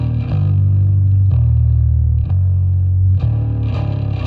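A deep, distorted bass guitar tone through a Laney Digbeth amp plugin on iOS plays in repeated sustained notes with short breaks between them, thick and gritty, close and loud.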